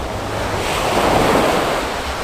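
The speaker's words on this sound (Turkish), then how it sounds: "Sahile sular vuruyor" Sea waves break steadily on a beach, a continuous rushing surf that swells to a fuller crash midway, with a light wind rumble underneath.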